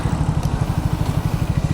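Triumph Speed 400 motorcycle engine under way, a steady close thrumming pulse with rapid even firing beats, loud and continuous with no talking.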